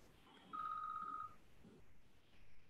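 A phone rings once with a single sustained electronic tone, faint against room noise.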